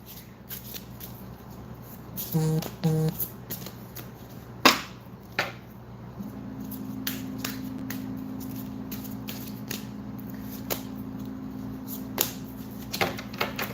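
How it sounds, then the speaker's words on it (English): Cards riffle in a couple of quick shuffles, then soft shuffling and tapping continue over a steady low hum, with scattered clicks. "I'm going to go ahead and give a shuffle."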